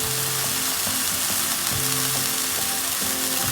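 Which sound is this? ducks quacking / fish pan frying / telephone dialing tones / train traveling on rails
fish pan frying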